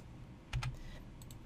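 A number typed on a computer keyboard, a couple of quick, faint key clicks in an otherwise quiet room.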